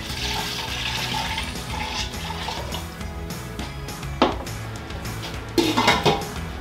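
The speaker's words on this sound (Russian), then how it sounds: "На дно кастрюли помещаем плоское блюдо или решетку" Clinking of a flat plate or rack placed on the bottom of a metal pot for making halloumi cheese, with scraping and a couple of sharper knocks over running water and kitchen clatter.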